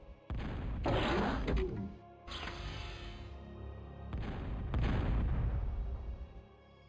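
Three heavy booming explosions from bombing in the Total Annihilation strategy game land in succession, each a loud thudding burst with a rumbling tail under a low game drone.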